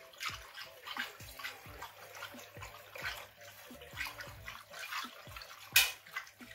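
Soured milk being stirred after rennet is mixed in, with repeated soft liquid sloshes and drips in a steady rhythm, close and fairly quiet with no talking.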